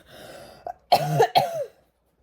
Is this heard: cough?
yes